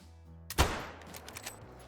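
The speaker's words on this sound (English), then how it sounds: "Perfect heart shot." A single sharp rifle shot in the Call of the Wild hunting game as a whitetail deer is hit, one loud crack with a short fading echo tail and faint ambience after.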